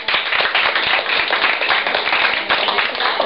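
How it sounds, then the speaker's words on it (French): A group claps steadily for a new artist at a French-language team-building retrospective session, a dense continuous patter of hands that stays loud and even throughout, with no talk over it. "on applaudit notre nouvelle artiste"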